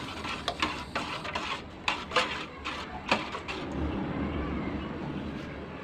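A spoon stirs squash and malunggay stewing in coconut milk with pork cube in a cooking pot, giving a run of close scraping clinks against the pot over a steady simmering hiss, with no talking.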